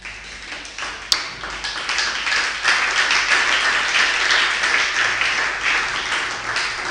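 A church congregation applauding during a worship service, steady dense clapping close by, with a sharp tap or ping near the start.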